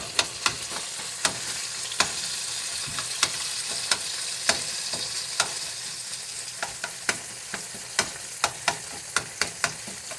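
Pork frying in a hot pan for fried pork noodles, a constant close sizzle broken by sharp clacks of a utensil stirring and separating the pieces.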